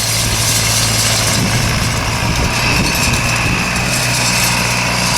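A vintage Nuffield tractor pulling chain harrows over a field, its engine droning loud and steady throughout, with a constant low hum and broadband rumble.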